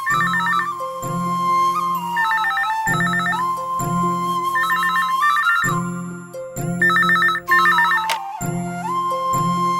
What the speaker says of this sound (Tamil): ஃபோன் வந்துருச்சு